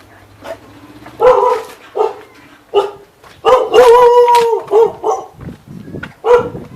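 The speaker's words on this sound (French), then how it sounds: "un chien" A dog barks in a narrow old-town street, several sharp close barks and yips in irregular bursts, loud and alone with no talk over them.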